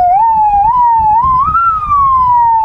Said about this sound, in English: With all siren, everything you guys are used to, several tones, like 5 tones you'll hear.